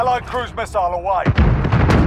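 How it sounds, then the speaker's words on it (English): A cruise missile explodes in the shooter game Modern Warfare: a deep, rumbling blast starts partway through and keeps rolling, right after a voice speaks over the game. "Allied cruise missile away."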